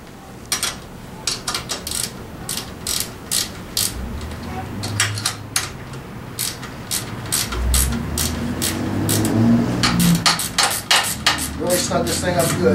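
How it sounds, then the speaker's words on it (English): Metal clicks and sharp taps ring out in quick irregular runs as a nut is tightened on a Tao Tao 90 dirt bike during assembly, with a low grunt of effort and muffled handling noise between, close by. "Put your nut on the other end and tighten it down good."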